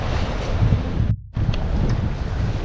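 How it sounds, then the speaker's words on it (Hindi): Strong wind by the sea on a road trip to Kanyakumari roars and buffets the microphone, with surf rumbling underneath; the gusting is loud and continuous apart from a brief drop-out midway. "हवा बहुत तेज़ है, नहीं उड़ेगा, चला जाएगा समुद्र में"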